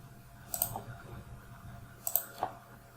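Two crisp computer mouse clicks, each a quick double tap, sound about a second and a half apart in QGIS mapping software on a quiet desk, with a faint soft click shortly after the second.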